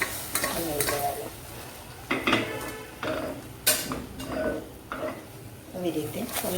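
A spoon stirs eggplant and potato curry with tomato in a pan, giving repeated scraping strokes every second or so over a low sizzle, with voices talking intermittently throughout.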